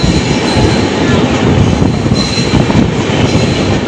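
A passenger train rumbles steadily along rails near Chandni Chowk in New Delhi, a loud, continuous roar with wheel noise and faint squeal throughout, up close and with no voices.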